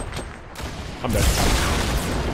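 A rocket explosion in the video game Fortnite: about a second in, a loud broadband boom bursts in over quieter game sounds, then a heavy low rumble rolls on to the end.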